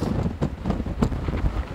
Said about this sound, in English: It's no joke, it's very strong wind.